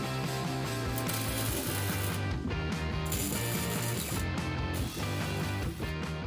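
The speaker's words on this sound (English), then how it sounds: "Okay, we can tack these gold pieces in now." Tack welding sheet metal pieces onto a 1960s car body being channeled, a dense crackling, buzzing stream of welding with short breaks, loud and close, with no talk.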